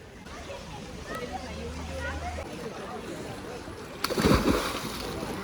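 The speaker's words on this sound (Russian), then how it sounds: "Начинаются прыжки в бассейн," People jump into a thermal lake pool in Sovata, Romania, with chatter and a murmur of water before one sharp, close splash that settles into sloshing.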